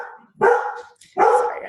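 A dog barks twice indoors, close and loud, two sharp full barks about a second apart with a brief whine before the first.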